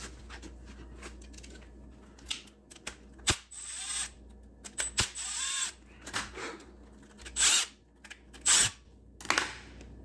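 Screws being removed from a Tecumseh lawn mower carburetor that sat unused for years, heard as scattered metallic clicks, scrapes and ratcheting tool sounds at close range with pauses between.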